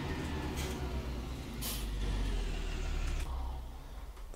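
Tractor and truck driving downhill in a farming video game, a steady low engine drone with hissing bursts like air brakes, heard up close and fairly loud.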